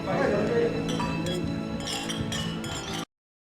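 Drinking glasses clink together during a toast at a gathering in a Chinese war drama, several bright short chinks scattered over a few seconds beneath raised voices before everything cuts to silence.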